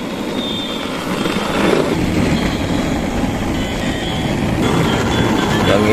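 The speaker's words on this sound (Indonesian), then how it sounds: "Wow, lihat teman, ini kereta api militer. Jalannya sangat cepat teman-teman." A loud, continuous rumbling whir of a toy military train running along its track, with steady mechanical clatter and no break.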